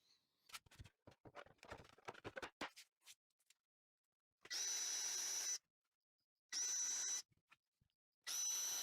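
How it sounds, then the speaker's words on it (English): A power drill pre-drills nail holes in wood for a table build, running in three loud, close bursts of about a second each, preceded by a stretch of sharp tapping and clicking. "I am, though, going to pre-drill my nails."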